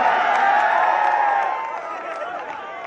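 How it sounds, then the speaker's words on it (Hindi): A crowd at a college annual function cheers and claps loudly as a performer is welcomed on stage, a dense steady roar that gradually eases off. "सौरभ भैया के लिए जोरदार तालियां"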